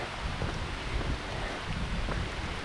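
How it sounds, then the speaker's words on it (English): Rain falling on a mountain trail, a soft, steady patter and hiss with gusty low rumble beneath, moderately quiet and continuous, with no voices present. "It's just raining."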